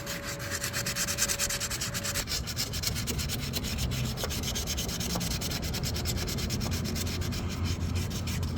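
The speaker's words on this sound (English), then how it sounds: "and I'm gonna just start sanding away." Steady hand sanding with 320 grit sandpaper across the engine bay of a K-swapped Honda Civic, a continuous close scratchy rubbing with even back-and-forth strokes and a faint tone early on, no talking.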